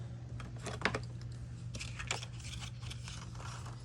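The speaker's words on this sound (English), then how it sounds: "I'm gonna get my scissors" Scissors snipping paper while mitering the corners of a shabby-style spiral-bound journal, heard as a few close, crisp cutting strokes with light rustling in between over a steady low hum.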